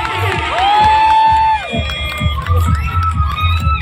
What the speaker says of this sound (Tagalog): Isa pa nga isang malakas na palakpakan may kasamang hiyawan!